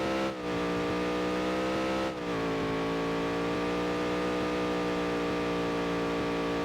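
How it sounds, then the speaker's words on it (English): A race car engine in the NASCAR Dirt to Daytona video game holds a steady, loud high-RPM drone, with two brief dips near the start, then a continuous strained rev with no talking over it. "You're gonna listen to that high RPM here."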